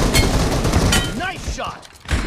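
Rapid gunfire from the video game BGMI during a team deathmatch, loud and dense with overlapping shots and a brief swooping effect.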